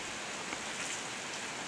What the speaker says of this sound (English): It's been raining for 3 days.